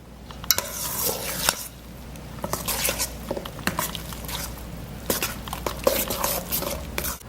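Chickpea hummus and guacamole with fresh cut pepper being stirred together in a bowl, a steady close scraping and clinking of utensil against dish with soft wet patter throughout.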